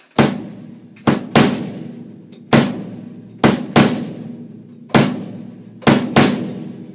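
A drum kit plays a steady groove with the bass drum on an offbeat, punchy booming hits in uneven pairs and singles, each ringing briefly before the next.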